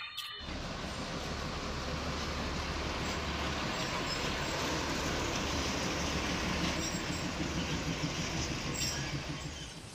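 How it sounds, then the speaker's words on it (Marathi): A train rumbles past up close for the whole stretch, a steady loud roar of wheels on rails with faint squealing and clatter. "आता समोरून ट्रेन येते ना ती पाहूया आपण"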